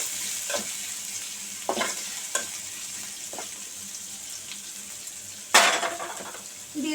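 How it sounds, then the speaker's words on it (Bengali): Chopped onion sizzles in hot oil in a pan for a bottle gourd peel and potato dish, with a steady quiet frying hiss and occasional scrapes of a spoon stirring against the pan. "রসুনটা হালকা বাদামি হওয়ার সঙ্গে সঙ্গে দিয়ে দেবো পেঁয়াজ কুচি"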